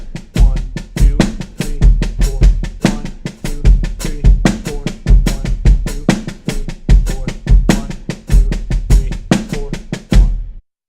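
A drum kit plays a 4/4 groove layered over 6/8 triplets, with dense, evenly driving hits that repeat in bar-length cycles, loud and close, before stopping abruptly near the end.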